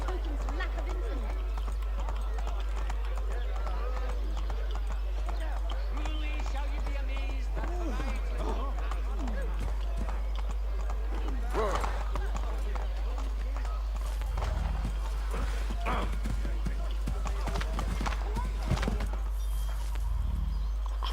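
A horse gallops in Assassin's Creed III, its rapid clip-clop hoofbeats running steadily under continuous game dialogue and ambient noise, growing busier with thuds near the end.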